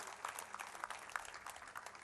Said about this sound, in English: May we have a round of applause for all those who have received their awards now